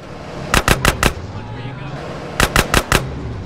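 In the video game GTA San Andreas, two loud bursts of four rapid gunshots ring out about two seconds apart over low background game ambience, with a voice speaking.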